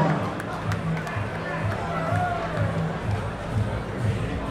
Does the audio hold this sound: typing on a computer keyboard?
no